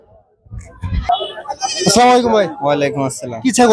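Goats bleat at a rural Eid livestock market, a loud nearby bleat breaking through as people talk close by over the animals.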